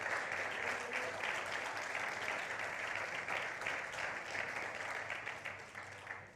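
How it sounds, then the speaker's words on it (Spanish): Sustained applause from a church congregation for the Lord, a dense, steady wash of many hands clapping that fills the room evenly for several seconds before easing slightly at the end. "Dale un aplauso grande al Señor, amén."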